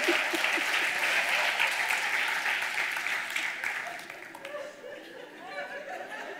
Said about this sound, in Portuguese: Uma salva de palmas, pastor Rafa, obrigado.